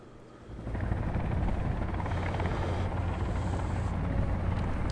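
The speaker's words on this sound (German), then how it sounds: "Das war der Heli." Helicopter in the survival game Sons of the Forest, a loud rotor drone that swells in within the first second and then holds steady, close and dominant.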